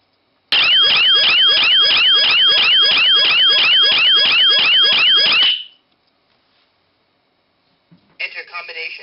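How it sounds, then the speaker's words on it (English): A 4x4 matrix keypad alarm processor's siren sounds loud and close, a rapid warbling electronic wail for about five seconds that cuts off abruptly, followed by silence and then a brief burst of another tone. "The minimum period of time that the siren will be activated for is 5 seconds."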